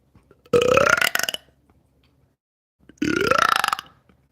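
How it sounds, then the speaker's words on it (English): Two loud, drawn-out burps separated by a couple of seconds of quiet, each rising in pitch with a croaky, voiced rasp. "The burping on command thing is easy."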